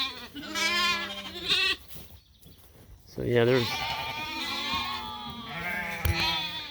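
Sheep bleat loudly nearby on a farm on sorting day, several wavering calls overlapping from a tightly packed flock with lambs and rams, while someone talks briefly amid them.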